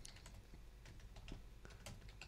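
Rapid typing on a computer keyboard, a quick irregular patter of key clicks with a few louder strokes, steady and close over a low background hum, with no talking.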